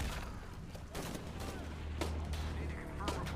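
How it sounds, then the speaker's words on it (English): Rapid bursts of gunfire from the video game Shadow of the Tomb Raider crackle through a busy game mix, sharp repeated shots at moderate distance with low rumbling underneath. "Need to confirm reports of more gunfire."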